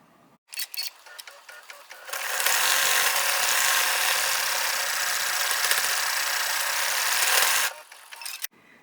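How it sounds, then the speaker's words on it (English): An embroidery machine sews a satin stitch for the rim of a white mug design, a fast, steady mechanical whir lasting several seconds, with short clicks and a pause before and after. "we're stitching the white mug back rim satin stitch"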